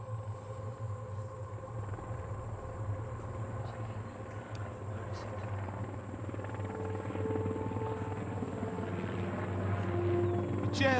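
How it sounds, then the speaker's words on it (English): A Black Hawk helicopter flies with a steady, droning rotor thrum that grows gradually louder toward the end. "Shortly after daybreak, the crew of a Black Hawk chopper spots the crash site."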